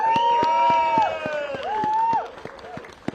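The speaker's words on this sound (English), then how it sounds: "A big warm round of applause. Nigel Farage." Crowd at an outdoor farming protest against inheritance tax changes cheers and applauds as Nigel Farage is introduced, a loud sustained din of clapping and whoops with voices and a whistle-like tone over it, fading near the end.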